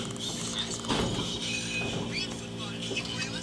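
A Schindler hydraulic elevator at a Durham hotel runs with a continuous mechanical hum, clanking and creaking along its rails, close by, while people speak over it.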